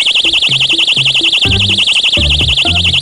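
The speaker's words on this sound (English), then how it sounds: "At 115 decibels, this tiny personal alarm is a real screamer." A tiny Ever-Ready personal panic alarm shrieks continuously at 115 decibels, a loud, rapidly warbling high-pitched siren that stays constant throughout, with a beat of lower sounds playing beneath it.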